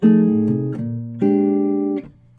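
Clean fingerstyle jazz guitar chords ring out close and clear, guide-tone shapes on top of a moving low bass line, each chord sustaining before the next.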